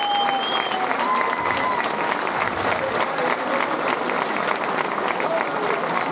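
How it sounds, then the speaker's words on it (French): A crowd applauds during the Sainte Rolende royal procession at Gerpinnes, sustained dense clapping at close range with voices mixed in beneath it. "on peut l'applaudir aussi"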